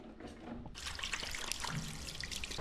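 Water trickles and splashes steadily into a metal urinal trough in a classic Australian public toilet, close and continuous, with a louder broadband wash after the first moment.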